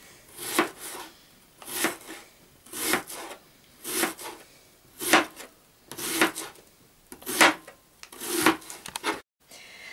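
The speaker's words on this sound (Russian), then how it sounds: "Лук режем полукольцами." A knife slices an onion into half rings on a board while making a Korean-style herring salad, about eight even, close cutting strokes in a steady rhythm with no talking.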